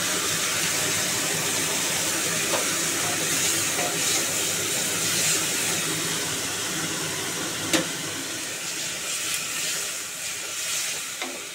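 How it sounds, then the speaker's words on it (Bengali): A gas stove burner roars steadily under a pan of potato and pointed gourd chorchori simmering with spices and water, a constant loud hiss with faint stirring clicks and no voices. "এই গ্যাসটা বন্ধ করে দিলাম, ভীষণ জোরে জোরে আওয়াজ হচ্ছিল"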